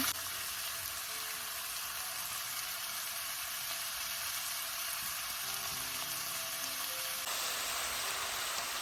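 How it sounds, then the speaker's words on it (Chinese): Beef pieces sear in a hot pan, browning on both sides for a red wine beef stew with tomato and potatoes, giving a steady, dense sizzle that runs unbroken and close throughout. "倒入牛肉，把牛肉两面都煎一煎，煎到有一点点焦黄"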